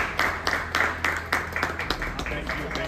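An audience at a celebration marking five years of teaching at an online education academy claps loudly in an uneven rhythm of sharp strikes, with a voice talking over the clapping.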